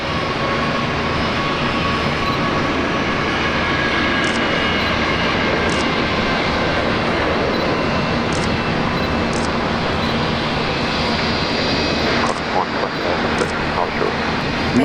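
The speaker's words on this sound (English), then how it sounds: "Touching down." A United airliner touches down at Brisbane Airport with a steady, broad engine and rushing roar that holds for the whole stretch, and a few faint ticks and bumps sit in the background.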